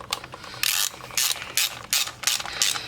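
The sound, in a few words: ratchet loosening bolt on Toyota Camry engine harness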